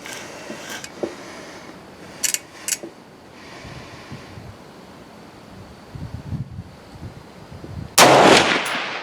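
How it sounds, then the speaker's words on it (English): A rifle shot fired over a Labradar chronograph at a shooting range, heard as a single loud, sharp report near the end, after a few lighter clicks and handling sounds over steady outdoor wind. "let's go ahead and shoot one and see if it'll pick it up"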